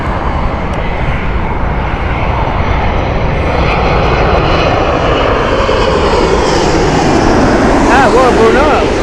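An airliner passes at Heathrow Airport, a loud continuous engine roar dominating the scene and slowly shifting in pitch as it goes by, with a voice briefly heard near the end.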